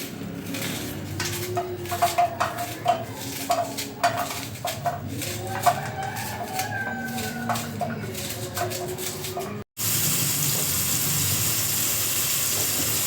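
A knife finely chops an onion for a shrimp and calamari tagine, giving quick irregular taps on a board with scattered louder knocks, followed after a short break by a steady sizzling hiss.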